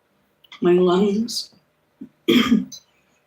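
Two rough, guttural throat clears in quick succession, close and fairly loud, with a short pause between them.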